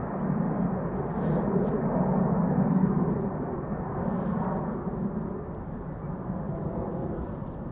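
A Cargolux Boeing 747-400 cargo jet, 17 years old, passes near Schiphol Airport with a steady, broad, distant roar that holds at a fairly even level throughout.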